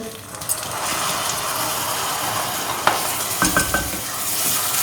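Rice is tipped into a pan of roasted vermicelli and stirred, making a loud continuous sizzle with scraping and rattling grain sounds and a few sharp knocks of the utensil against the pan.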